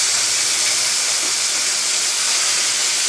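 Fish frying in hot oil with salt and turmeric in a wok-style karahi, a steady loud sizzling hiss with no break.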